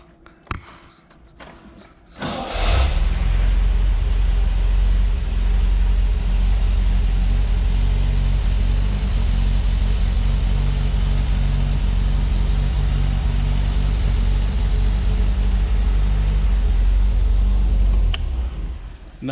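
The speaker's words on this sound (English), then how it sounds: "I'm going to start it up." A 1974 MG MGB engine cranks and catches on a hot day, then settles into a steady, low, rumbling idle heard nearby for a long stretch with no talk.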